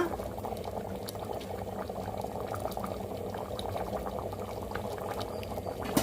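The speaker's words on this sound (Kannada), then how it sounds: "ಈಗ ಸಾರು ಚೆನ್ನಾಗಿ ಕುದೀತಾ ಇದೆ" A pot of chicken hitikida bele saaru, Karnataka-style curry with peeled field beans, bubbling at a rolling boil, a continuous close, moderately quiet gurgle and pop of thick liquid with no voices.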